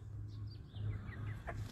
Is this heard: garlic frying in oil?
no